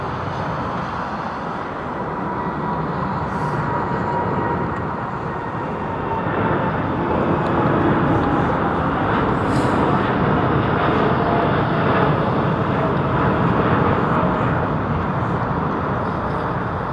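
Boeing 787 Dreamliner taking off at London Heathrow Airport, a steady, loud jet engine roar that swells slightly and holds for the whole stretch, heard from a distance.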